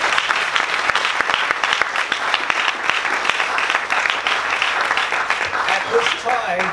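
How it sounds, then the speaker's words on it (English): An audience applauds defending triathlon world champion Jan Frodeno at a Kona press conference, a steady crowd of clapping hands with sharper individual claps standing out, and a voice speaking faintly toward the end. "A big round of applause for the gentleman."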